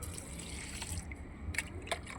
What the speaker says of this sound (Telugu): కొంచెం కొంచెం వాటరింగ్ చేసుకుందాం